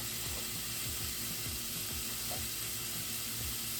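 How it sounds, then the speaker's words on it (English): Beef cooking in a pan for oven pan nachos, a steady close sizzle and crackle of frying with a continuous hiss and no voices. "I'm gonna put it in here to cook this beef"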